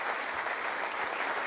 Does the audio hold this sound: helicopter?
no